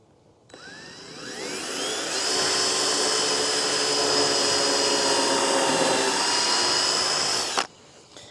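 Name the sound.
drilling a pilot hole in handle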